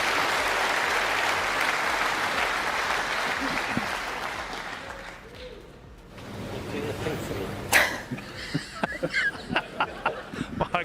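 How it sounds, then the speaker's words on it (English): Audience at a snooker match bursts into sustained applause that swells and fades, followed by scattered claps and a few sharp taps over quieter crowd murmur. "I think she might get a round of applause"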